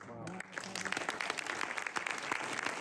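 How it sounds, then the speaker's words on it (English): Audience at a film Q&A for Emancipation (2022) breaks into applause, a dense sustained clapping that swells after a brief opening murmur of voices and continues steadily. "you're getting a round of applause for that"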